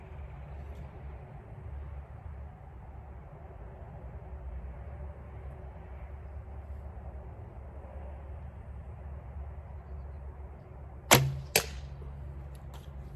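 An arrow shot from a compound bow with new limbs strikes a can in an outdoor archery setting: a sharp, loud impact crack followed by a second smaller ping, standing alone over steady low background rumble.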